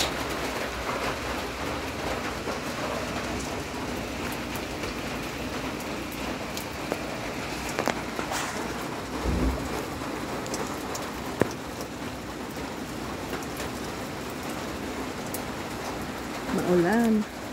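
Steady rain falls in Cavite, a continuous close hiss of drops on surfaces that lasts throughout, with a few scattered louder taps and a faint low rumble underneath.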